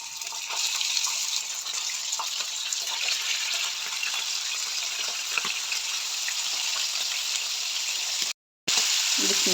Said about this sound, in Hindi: इसको हम फ्राई कर लेंगे तवे के ऊपर।